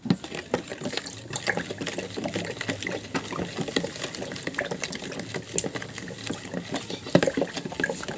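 Powdered jelly mix being stirred into liquid in a pot, a steady wet patter of sloshing and scraping with a few sharper clinks running throughout.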